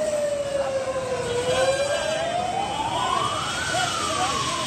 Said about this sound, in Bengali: এখানে আপাতত একটা দমকলের ইঞ্জিন এসে উপস্থিত হয়েছে।